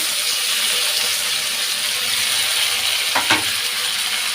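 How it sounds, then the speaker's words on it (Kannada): Tomatoes sizzling and spitting in hot oil with curry leaves in a pan for a simple toor dal, a steady close frying hiss with a couple of sharp pops near the end. "ಅದು ನೀರಿರುತ್ತಲ್ಲ, ಸ್ವಲ್ಪ ಸಿಡಿಯುತ್ತೆ."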